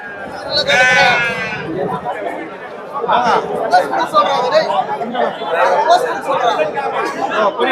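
Goats and sheep bleat at a livestock market in Ranipet, a loud nearby bleat standing out early, amid constant crowd chatter and several people talking close by.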